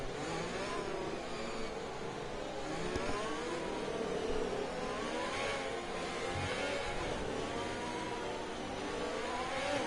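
Go-kart engines whine and rev steadily through a kart race final between Ellough Park and Karttrak Cromer, a continuous buzzing drone with rising pitch sweeps, fairly loud and unbroken with no talk.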